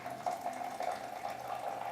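Hot water pours steadily into a French press to preheat it, a continuous close gurgling stream with a faint hollow ring as the glass fills.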